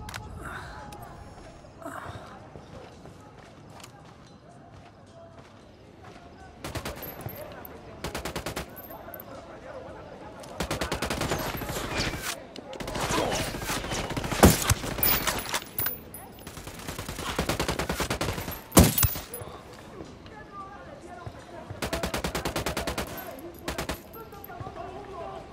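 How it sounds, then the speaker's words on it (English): Bursts of automatic gunfire in Ghost Recon Wildlands, loud and repeated in sustained volleys with single sharp shots between, while voices call out over the shooting. "I'm shooting these fuckers."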